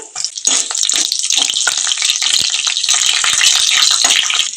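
Dried red chilies and curry leaves drop into hot oil with cumin for a village-style gongura paneer curry, giving a loud, close, continuous sizzle with crackling spatters throughout.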